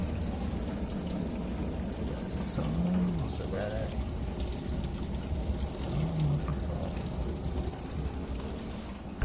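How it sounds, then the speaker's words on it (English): A washing machine runs with water in a kitchen under renovation, giving a steady rushing, pouring wash of water throughout, with muffled voices faintly in the background. "so the washing machine is working"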